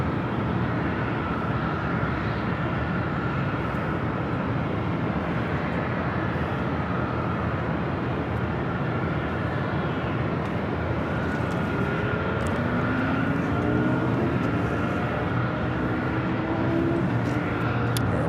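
Steady, loud jet engine roar of an airliner taking off at LAX airport, a continuous broad rumble with slowly shifting tones throughout and no talk.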